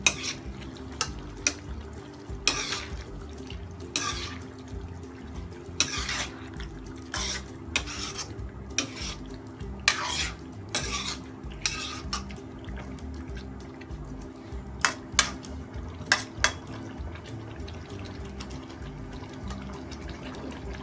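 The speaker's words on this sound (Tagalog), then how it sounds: "Haluin lang po natin." Beef caldereta in a pot being stirred after ketchup goes in, with intermittent wet scraping and clinking spoon strokes spread across a quiet, low simmering background and no talking.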